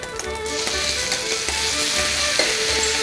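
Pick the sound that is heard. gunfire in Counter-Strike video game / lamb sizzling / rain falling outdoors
lamb sizzling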